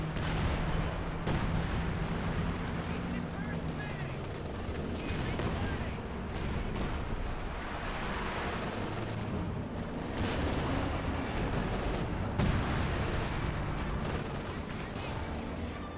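Gunfire and tank cannon shots from the World War II strategy game Company of Heroes 2 crackle and boom in a dense, continuous battle mix, with bursts and heavier thumps layered throughout.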